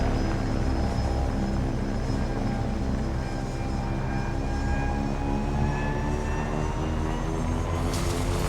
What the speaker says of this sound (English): Stupid wyvern with your stupid engine noises.